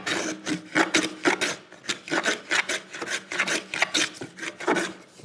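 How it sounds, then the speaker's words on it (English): A hand plane takes a thin shaving off the shiny surface of a wooden tenon on a workbench project, with a series of close, rhythmic rasping strokes, one after another and with no talking. "I might be tempted to take just a shaving off this surface"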